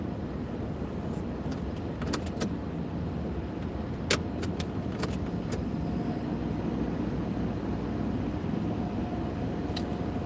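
Steady broadband rumble and hiss of an automatic car wash around a car, continuous and close, with a few brief sharp ticks and clicks scattered through and no talking.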